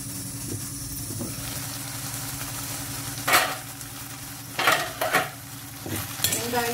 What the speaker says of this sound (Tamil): வெங்காயம் தக்காளி நல்லா வதங்கிட்டு